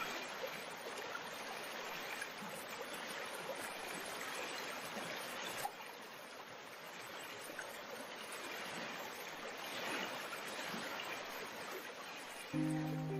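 Heavy rain pours steadily over a village, a dense, continuous rushing wash with trickling water, holding constant loudness throughout with no voices.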